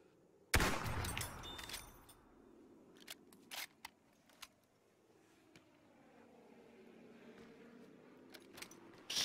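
Gunfire in Battlefield 1 during a Sinai Desert Conquest match: one loud, close sniper shot followed by scattered fainter distant shots and small clinks, over a quiet ambient bed.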